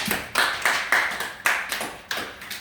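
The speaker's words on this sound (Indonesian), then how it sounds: "Beri tepuk tangan untuk Daniel." A group of students in a classroom gives a short round of hand clapping, several distinct bursts close by with brief gaps between them and no talking.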